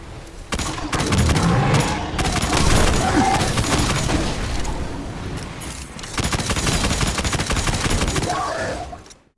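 Iron Banner sidearm from Destiny: Rise of Iron firing in rapid, continuous volleys, loud and close, with dense overlapping gunshots and game battle noise throughout, no talking.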